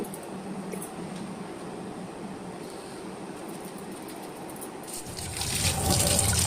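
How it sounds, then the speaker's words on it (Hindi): Moringa, potatoes and eggplant are washed under running tap water, a soft steady trickle that swells into a louder, closer splashing gush near the end. "यहाँ पर मैं आलू और बैगन को अच्छे से पानी से धो लेती हूँ।"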